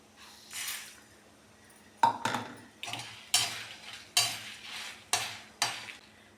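Red chillies and coriander seeds dry roasting in a pan for idli podi, heard as a series of scraping stirring strokes with light crackle, several close rhythmic bursts over a quiet kitchen background.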